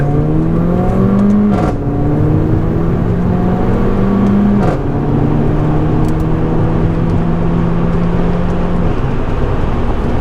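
A Mercedes-AMG A45 engine revving hard through the gears with windows closed, pitch climbing steadily then dropping at each shift, loud and continuous from inside the cabin.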